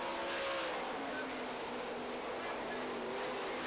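Sprint cars race around a dirt track at the 1994 Knoxville Nationals, a steady, dense engine roar from the pack that holds level throughout, heard from a distance with crowd ambience mixed in.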